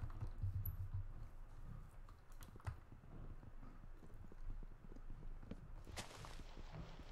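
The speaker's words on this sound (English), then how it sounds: "I found the horse." Horse hooves clip-clop in Minecraft as a steady patter of soft, moderately loud steps running through the stretch, with a sharper burst near the end.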